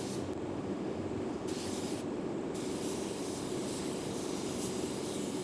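Continuous hissing roar of a spray gun spraying car paint, steady and loud, with brief shifts in brightness as the spray is aimed.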